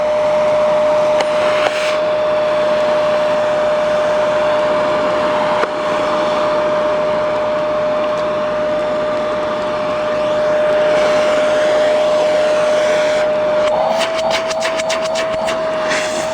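A Dirt Devil vacuum cleaner with a freshly cleaned filter runs steadily and loudly with a constant motor whine, alone without talk, and a brief rattling change near the end.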